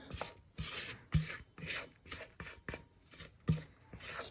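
A spatula scrapes banana bread batter from a mixing bowl into a pan, about eight separate rasping strokes in an irregular rhythm, each with a soft thud at its start, close and fairly quiet with no talk.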